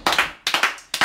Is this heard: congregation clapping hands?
yes